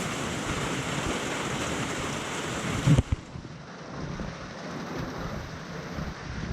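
Steady rain hisses loudly on the Appalachian Trail, then a sharp crack of thunder hits, after which the downpour drops to a softer, muffled patter.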